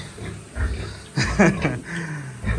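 A farm pig grunts in a pig-rearing setting, several short low grunts in irregular bursts, close by and moderately loud, with no talk over them.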